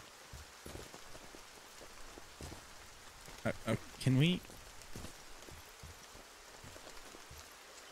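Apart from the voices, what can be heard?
rain in a video game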